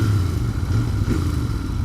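A Royal Enfield Continental GT 650 motorcycle idles or rides nearby, its exhaust giving a loud, steady low rumble with a dense, even throb throughout.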